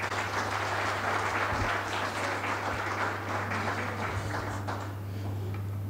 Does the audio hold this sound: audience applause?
yes